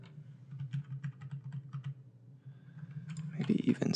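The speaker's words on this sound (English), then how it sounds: "hit T on the keyboard" Quick, light keystrokes on a computer keyboard tap out a steady run close by, followed by a louder burst of clicks near the end.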